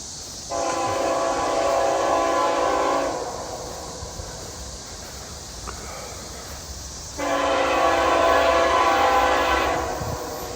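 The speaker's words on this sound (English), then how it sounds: "we've got a westbound coming, which is geographically south." A westbound Norfolk Southern freight train passing outdoors, sounding two long loud horn blasts several seconds apart over a steady rumbling rail background.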